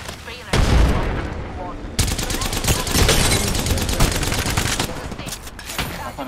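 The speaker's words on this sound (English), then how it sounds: "Big shooting at me." Rapid gunfire from an enemy squad in the battle royale shooter Apex Legends, dense bursts and volleys crackling almost continuously, loud and close, with a voice talking over them.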